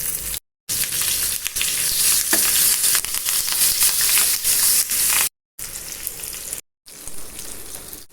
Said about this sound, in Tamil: மீனை திருப்பி போட்டு ஒரு 10லேருந்து 15 நிமிஷம் வேக விடுவோம்.